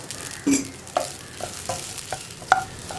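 Spices for breadfruit thoran being stirred in a pan over a low flame, with scattered soft scrapes and light taps of a spoon against the pan and a faint sizzle, close by and fairly quiet.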